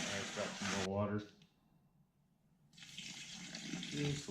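Water pours from a container into a wet concrete mix for a fish habitat. Two bursts of splashing and gushing are heard up close, separated by a short quiet gap.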